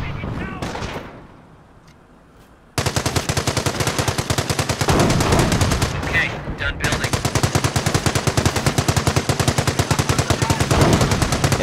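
A machine gun nest in Company of Heroes, set during the Normandy invasion at Montebourg, opens up after a brief quiet lull and hammers out a long, rapid, steady stream of loud automatic fire that runs nearly without pause.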